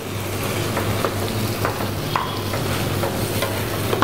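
Marinated achari chicken frying in a pan, a continuous close sizzle and crackle broken by repeated scraping stirs of a spoon against the pan.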